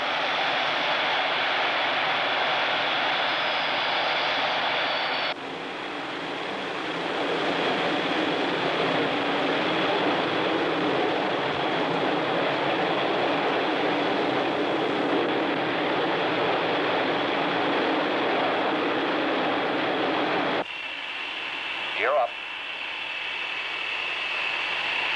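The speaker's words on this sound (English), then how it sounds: "Roger, coming up on power." Jet engines of a Boeing B-47 bomber power up for takeoff with a loud, steady roar and a high whine that holds for about twenty seconds. The sound shifts slightly near the end.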